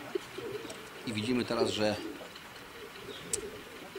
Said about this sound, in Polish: Jeszcze ostatnie gołębie krążą nad gołębnikiem, ale większość tych gołębi siadła